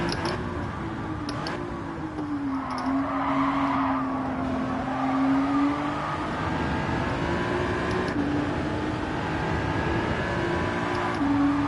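A drifting car in Gran Turismo 7 wails with sustained tire squeal over a droning engine, the screech rising and falling in pitch as the slide shifts, loud and continuous with no voices.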